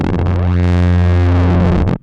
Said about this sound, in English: one of the things you really want in an analog filter is to be able to modulate it with an audio range oscillator